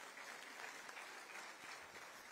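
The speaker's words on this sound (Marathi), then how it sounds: "सगळ्यांनी कृपया करून संजयजींकरता अभिनंदनाकरता टाळ्या वाजवाव्या" Faint, steady applause from an audience at a birth centenary event for Smt. Sumatitai Sukalikar, attended by Chief Minister Fadnavis, continues evenly for a couple of seconds as a soft, distant wash of clapping.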